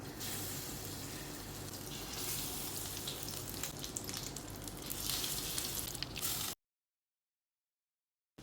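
Bread dipped in egg mixture fries in oil with a faint, steady crackling sizzle for several seconds before cutting to silence.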